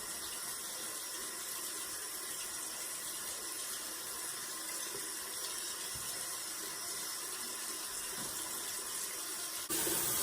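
Tap water running steadily into a sink while hair is rinsed, a continuous close hiss with a brief louder splash at the end, no talk over it.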